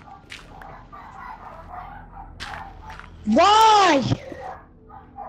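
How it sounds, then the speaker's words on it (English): A single loud, tonal dog bark from a Minecraft game cuts in briefly amid a person's quieter talking. "dogs barking so much"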